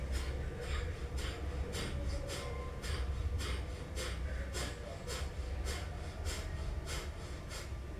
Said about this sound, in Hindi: जैसे नाक साफ करते हैं तेजी से, और ऐसे सांसों को फेंकना है।